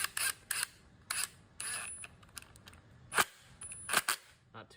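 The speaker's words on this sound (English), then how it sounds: "Take my 3/8 socket, either on impact or ratchet, and just screw it in" Ratchet-like clicks and short mechanical bursts from a 3/8 socket driving a screw into plastic on a 2012 Polaris Sportsman 500HO, coming in several quick separate runs at close range with no one talking.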